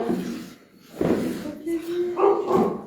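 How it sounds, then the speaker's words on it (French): A dog barks a few times indoors, partly masked by people talking over it. "Vous avez réveillé le chien."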